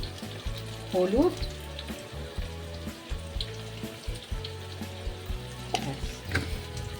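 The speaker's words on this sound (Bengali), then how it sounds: "পেঁয়াজ টমেটোটা ভাজা ভাজা হয়ে গেছে, এইবারে পোস্ত বাটাটা দিলাম" Onion and tomato fry in a pan with turmeric as poppy seed paste is added, making a steady close sizzle broken by a few clinks of stirring, while a voice speaks briefly.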